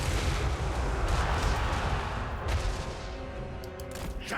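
Units in a strategy video game fire on Mongol forces, making a steady, dense barrage of battle gunfire and booms that carries on without a break and stays loud the whole time.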